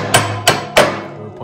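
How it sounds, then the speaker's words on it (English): Three sharp metallic hammer taps, evenly spaced and close, knock a frozen part loose while installing a Kolpin Switchblade ATV plow; each strike rings briefly before fading. "Just use a hammer with a tip."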